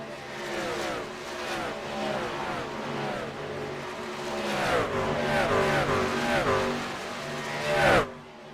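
Racing truck engines at Kansas during a truck series race, several trucks roaring past in sweeping rising and falling passes, growing louder toward the end before an abrupt drop.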